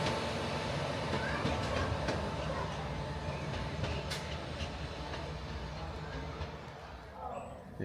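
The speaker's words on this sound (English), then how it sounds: "Here's our next train, another 170." A Class 170 diesel train rumbles past steadily with a broad, continuous roar and faint rhythmic wheel clatter, fairly distant, with no one talking.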